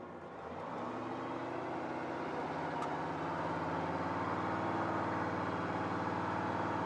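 A 1986 Chevrolet C10 pickup truck engine idles steadily and close by, with a low, even rumble that holds smooth and constant throughout, no stumbling or surging.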